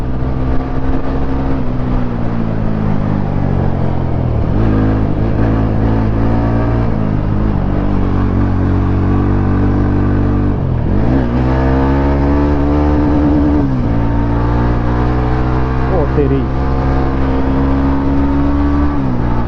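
An RC motorcycle engine, loud and close, revving steadily with repeated rises and dips in pitch as it accelerates, running continuously without talk.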